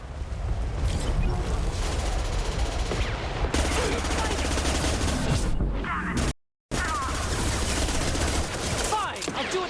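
Gunfire rattles in a Mass Effect 2 firefight, loud rapid bursts and impacts packed together, cut by one sudden short silence before the shooting resumes, with voices now and then beneath it.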